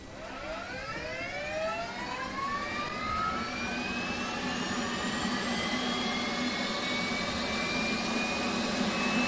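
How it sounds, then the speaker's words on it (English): An F/A-18D auxiliary power unit spooling up in the DCS flight simulator, a loud continuous turbine roar with rising whining tones climbing steadily in pitch and settling into a sustained whine. "So let's go ahead and put the APU on."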